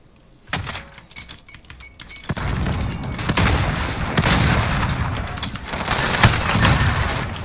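A grenade blast and gunfire in a first-person shooter game: scattered sharp shots at first, then a loud sustained stretch of explosive booms and rapid firing, with no talk.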